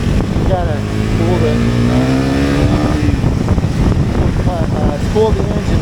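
A KTM Duke 390 or Bajaj Dominar 400 motorcycle engine revs up and climbs in pitch while riding, loud and close under heavy wind noise, with a rider speaking over it.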